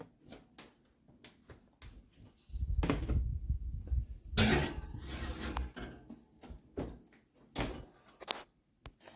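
An oven door opens and shuts as a pan of lemon gumdrop bread batter goes in, with clunks, rattles and a louder mid-clip thud among scattered clicks and knocks.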